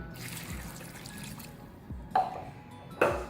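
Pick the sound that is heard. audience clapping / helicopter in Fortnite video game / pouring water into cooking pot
pouring water into cooking pot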